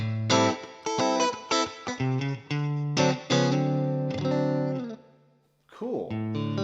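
Electric guitar chords and notes played through a Twin Reverb amp model with a bright, reverberant tone, a short pause, then a bending phrase.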